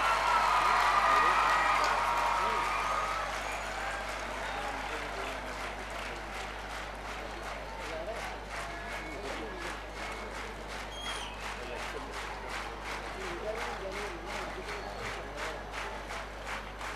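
An audience gives a long round of clapping in honour of the CISF at a gathering with children present, applause that swells early and then settles into steady, dense clapping.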